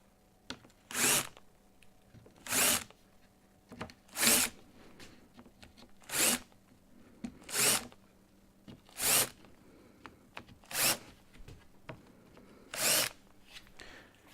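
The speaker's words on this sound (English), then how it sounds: "So I'm going to do a quick countersink." A drill countersinks holes in wood, with about nine short, loud whirring bursts spaced evenly a second or so apart, close by with quiet pauses between.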